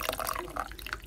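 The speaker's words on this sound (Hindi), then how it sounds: "नीम गरम पानी डाल के देखें" Lukewarm water is poured over dried plums (aloo bukhara) in a home kitchen while preparing chutney, giving a brief, faint trickling and splashing.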